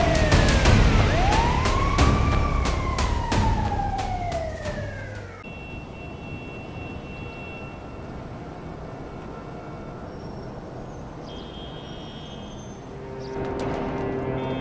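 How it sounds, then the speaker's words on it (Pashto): A wailing ambulance siren sweeps up and down loudly, then cuts off, leaving steady road traffic rumble with faint tones and a brief rise at the end. "بیا یې په امبولانس کې راچولی وي او هسپتال ته یې خطا کړي وي."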